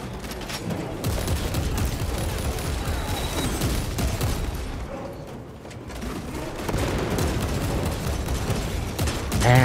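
Heavy weapon gunfire in Warhammer 40000: Space Marine 2 video game: dense, continuous bursts of loud shots blending with explosions and battle noise, sustained throughout with a brief dip midway.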